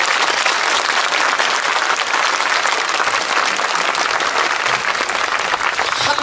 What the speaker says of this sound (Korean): 이럴 때는 원래 이 부산 경남에서 이래 박수 한번 쳐야 됩니다